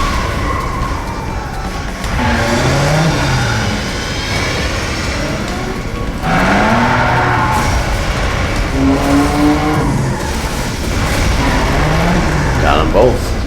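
Race cars drifting in the arcade racer Cruis'n Blast, with sustained engine whine and rising, sliding tire squeal over game music, while a voice talks over the action.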